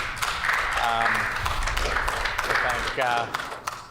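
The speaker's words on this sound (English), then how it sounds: "Thank the members for the applause." Members of a legislative House applaud a Minister of Justice at the start of a speech, a steady patter of clapping from a chamber while a voice speaks over it.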